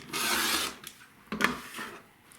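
Rotary cutter slicing quilting fabric on a cutting mat, a close, soft rasping swipe followed by shorter scraping strokes.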